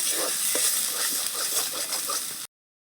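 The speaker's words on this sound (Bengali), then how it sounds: "এবারে সব কিছু ভালো করে কষিয়ে নেব" Ground spices and Kashmiri red chili powder sizzling as they are stir-fried in a pan for an eggless cabbage omelet curry, a steady, bright crackling hiss that cuts off abruptly.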